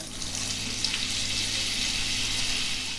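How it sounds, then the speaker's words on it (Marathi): Butter dropped into hot oil for pav bhaji gives a steady, close sizzle with a fine, even hiss that holds at a constant level. "तेलात गेल्याबरोबर सरसरलो पण, आणि तो असं फिरता."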